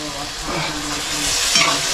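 An onion, garlic and ginger paste is stirred in a cooking pan over a fire outdoors, giving a loud, close sizzle with scraping strokes of the spoon and a rising hiss near the end.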